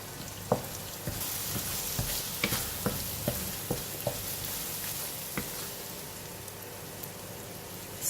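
Chili frying in oil in a pan with dried shrimp, sugar and salt, giving a steady soft sizzle broken by scattered sharp pops and the clack of stirring, close and fairly quiet.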